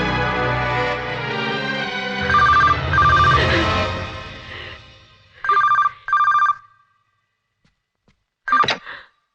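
A telephone rings in short repeated bursts, loud and close, over soft background music, then falls quiet before one last brief ring.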